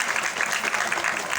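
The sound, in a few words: audience applause for Vishal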